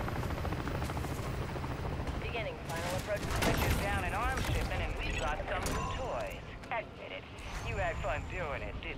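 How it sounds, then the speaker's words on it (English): Helicopter in Modern Warfare Zombies arriving over a battle, its rotor wash rumbling beneath rattling gunfire and explosions while radio voices talk over the din. "Terminus chopper inbound"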